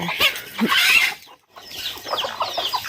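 Chickens cluck nearby in short bursts at a family home in Laos, with a brief pause before more clucking resumes.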